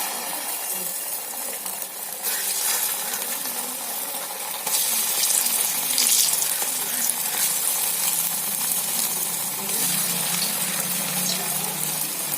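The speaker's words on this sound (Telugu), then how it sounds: "ఆయిల్ అయితే హీట్ అయిపోయింది కదా. ఇప్పుడు ఇవన్నీ కూడా వేసేసుకుందాం." Ridge gourd snacks in maida batter are dropped into hot oil, setting off a loud, continuous sizzle and bubbling that swells in stages as more pieces go in.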